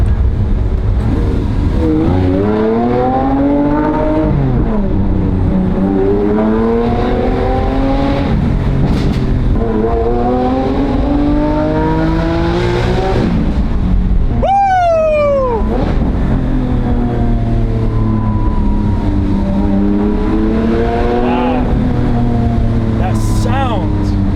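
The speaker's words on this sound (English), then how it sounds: "Those crackles and pops." Lamborghini driving in manual mode, its engine note droning loud and steady with rising and falling revs, a few sharp exhaust crackles and pops cutting through, and a voice talking over it.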